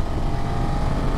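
Steady engine drone from a 2024 BMW F900 GS adventure motorcycle on the move, a continuous mid-level rumble heard from onboard with wind, no voices.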